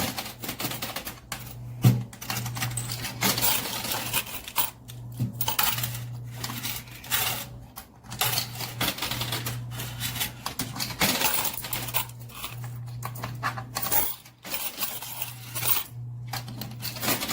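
Coins clink and clatter inside a coin pusher arcade machine, a busy irregular rattle of metallic taps and drops over a low steady machine hum, with occasional louder spills.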